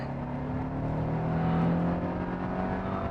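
A 2000 cc turbocharged Mercedes-Benz SLC roadster accelerates hard, its engine note a steady, loud drone rising slightly in pitch, heard from inside the car with no talking.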